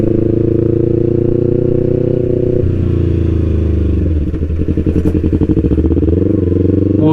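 A Kawasaki Ninja 250 FI motorcycle is ridden on the road, its engine droning loudly and steadily before slowing into a rougher, pulsing idle-like throb near the rider.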